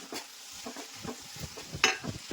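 Vegetable curry is stirred in a pan with close, rhythmic scraping strokes over a low, steady sizzle, one sharper clink of utensil on metal standing out, with no talking.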